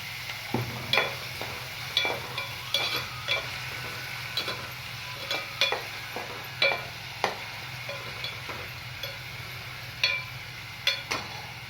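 Onions, tomato and salt are stirred and fried in a pan for a moth bean (madike kaalu) palya: a spatula scrapes in quick, irregular strokes over a soft, continuous sizzle, close up.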